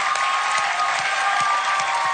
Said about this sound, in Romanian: Aplauze pentru oamenii de la jurul de acolo care ne votează de fiecare dată!